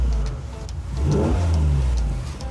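A 347 Canadian crate engine revs in a car, a deep mid-range roar swelling up once and then holding a rumbling idle, close and loud with no talk.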